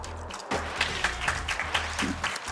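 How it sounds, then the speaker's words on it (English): Audience at Awesome Games Done Quick applauding a speedrun of Skator Gator 3D, a sustained wash of clapping from a crowded hall that holds steady over a low background hum. "You can get some applause for that."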